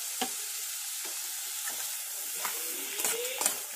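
Green chillies sizzle in hot oil with spice masala in a pan, a steady frying hiss broken by several scraping stirs of a spatula, close and clear without speech.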